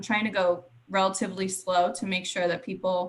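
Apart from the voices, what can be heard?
No everyday noises stand out.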